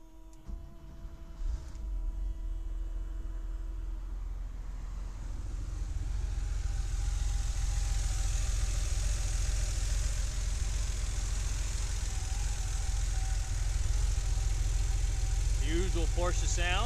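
A 1986 Porsche Carrera Targa engine turns over and settles into a steady, low idle, a continuous rumble with a faint whine above it, fairly close.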